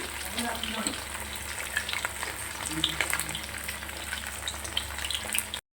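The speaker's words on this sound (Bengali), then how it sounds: "তো মাছটা একটু ভেজে নিই।" Pieces of katla fish sizzle in hot oil in a kadai, a steady crackling spatter with brief louder pops and scraping stirs, close and continuous throughout.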